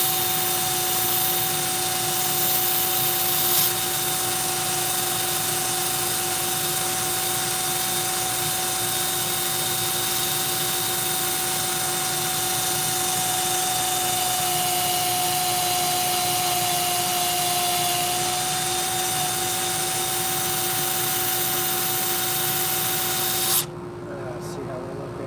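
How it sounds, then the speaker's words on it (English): A power sander works over a wooden piece during finishing, a steady loud broadband whir with a constant tonal hum holding for over twenty seconds before cutting off abruptly near the end. "I like the finish that I get after I'm done sanding, but the sanding part's kind of boring."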